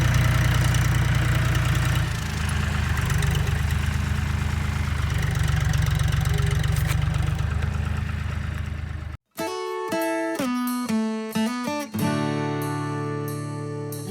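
Tractor engine idling while clearing snow, a loud, steady low rumble with a rhythmic knock for about nine seconds before it cuts off abruptly and music takes over.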